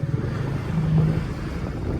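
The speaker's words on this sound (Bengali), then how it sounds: "এতদিন তো গরম দিয়েছিল এখন পুরো ঠান্ডা হাওয়া" Cold wind blows hard during a storm in Vrindavan, a steady, rushing roar buffeting the microphone with a low rumble that swells slightly midway and never lets up.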